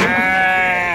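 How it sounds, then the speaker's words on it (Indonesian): A sheep bleats loudly and close by in one long, quavering cry filling the whole second, at the Wage livestock market in Bumiayu on a morning when new animals are arriving. "Ini domba-domba yang baru datang di Pasar Wage"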